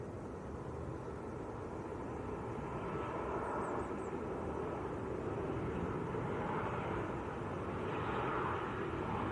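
An Air Portugal airliner coming in to land at Manchester Airport, a broad steady jet roar that holds loud and close throughout with no talking.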